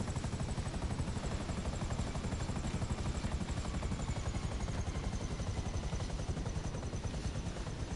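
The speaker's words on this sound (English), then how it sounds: "I hear the plane." An aircraft passes overhead in the online video game GTA Online, heard as a steady, loud, whirring drone of rotor or engine noise that holds constant throughout, with no talking.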